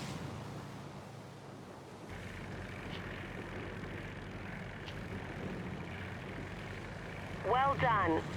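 Steady propeller plane engine drone from an Xbox One flight game as the aircraft pulls an Immelmann and other handling maneuvers, roughly constant in level, with a brief louder surge near the end.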